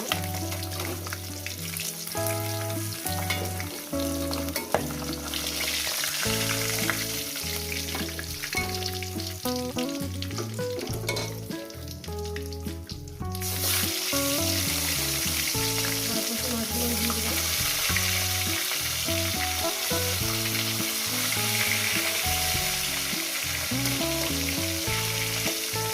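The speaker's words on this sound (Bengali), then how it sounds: "মাছগুলো ভাজা হয়ে গেছে, মাছগুলো তুলে নিলাম।" Fish sizzle and crackle while frying in hot oil, a loud, constant hiss layered over rhythmic clattering and stirring, with no one speaking.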